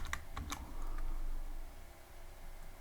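A few quick, close keystrokes tap on a computer keyboard, then trail off into quiet room tone.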